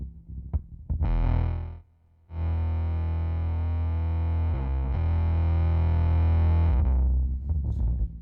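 An electric guitar runs through a Jext Telez Standoff pedal, giving a thick, heavily distorted tone: a few picked notes, then a long sustained droning chord with a brief break and slight shift midway before it fades, loud and alone.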